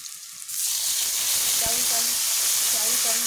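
Rice goes into a pan of fried onions, and a quiet hiss jumps into a loud, continuous sizzle that holds steady to the end, with a faint voice underneath.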